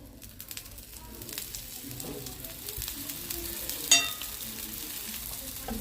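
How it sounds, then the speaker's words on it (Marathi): Oil sizzling around the edges of a multi-millet jowar and ragi chilla on a pan over medium heat: a soft, continuous crackle that swells a little partway through, with one sharp clink and a louder burst of frying. "आता हे झाकण काढूया आणि याच्यावर तेल सोडायचं आहे कडेने."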